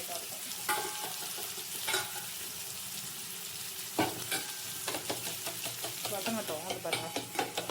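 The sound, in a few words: beaten egg with salt, turmeric, pepper, chili powder frying in pan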